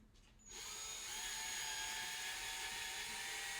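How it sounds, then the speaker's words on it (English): A slow-speed hand drill enlarges dowel holes in wood for a step stool. It starts up abruptly, then whines steadily, close and loud, with no talk. "I'm going to use a hand drill that's got a very slow speed."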